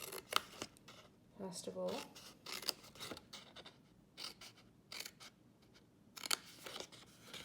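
Scissors snipping paper down to a score line, a run of short dry cuts and rustles close by, with someone talking quietly over them.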